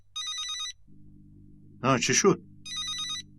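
A telephone bell rings in short bursts, pausing between rings, while a voice speaks over the middle of the clip and a low hum sits underneath.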